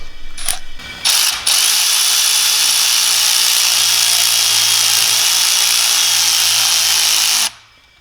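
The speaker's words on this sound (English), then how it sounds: "I'm just going to use this electrical ratchet." Electric ratchet whirring steadily for several seconds while compressing a valve spring on a BMW N46 engine, preceded by a few short clicks and bursts, then stopping abruptly; loud and close, no talk.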